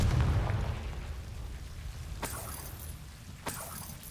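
A Confringo blasting spell from a video game goes off: a muffled booming burst at the start fading into a low rumble, followed by two sharp, faint cracks a second apart.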